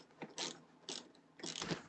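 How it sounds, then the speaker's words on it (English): A ratchet screwdriver drives screws into a Willys Jeep scale model kit, giving three short bursts of close, clicking ratchet sound separated by brief pauses. "I figured I'll use my ratchet screwdriver for this."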